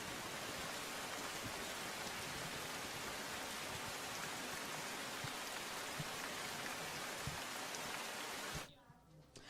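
Heavy rain pours down in Gujarat, a dense, even hiss of falling water that runs unbroken at a steady level before cutting away abruptly near the end.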